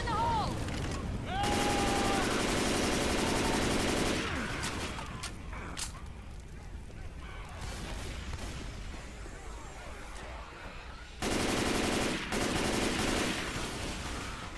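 Gunfire from the video game Left 4 Dead 2, with dense bursts of automatic fire in two loud stretches, separated by quieter game noise. Voices talk and shout between the volleys.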